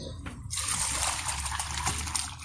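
Water pours and trickles steadily on a farm while feed is set out for livestock, a continuous close liquid splash with a low rumble underneath.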